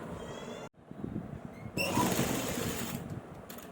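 Sewing machine stitching a sleeve onto a garment's armhole, a steady close mechanical whir that stops briefly, then restarts louder and runs on with a rapid buzzing rattle.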